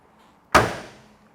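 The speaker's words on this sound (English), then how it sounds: "Passenger door closes nice and neatly." The passenger door of a 1968 Chevrolet Camaro convertible swings shut with a single solid thump, close and clean, its short ring fading quickly into quiet.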